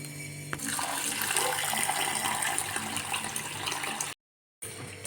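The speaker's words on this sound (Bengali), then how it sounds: "এই চালটা ধুয়ে নেব" Rice being washed under running water at a home sink, a steady close splashing stream that runs unbroken before cutting off abruptly near the end.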